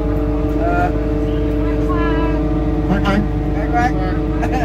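An amphibious duck tour vehicle near Windsor Castle runs with a loud, steady engine hum, while voices talk over the continuous drone.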